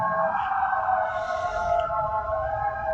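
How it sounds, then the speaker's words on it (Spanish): A passing ambulance siren wails steadily and loud on a busy main avenue, its tone holding through the whole stretch over a low traffic rumble. "está pasando una ambulancia, vamos a dejar que pase, vivimos en una avenida principal"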